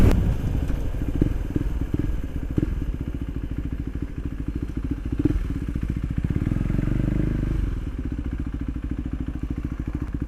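A KTM 390 Duke with an Akrapovic titanium slip-on exhaust idles loudly nearby, putting out a steady, rapid low thumping with a few sharper pops and a brief rev midway.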